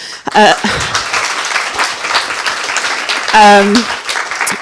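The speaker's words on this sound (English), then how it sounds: "she deserves a special welcome and round of applause" An audience at a research partnership event applauds a speaker as she is welcomed, steady clapping with a voice speaking over it at the start and again near the end.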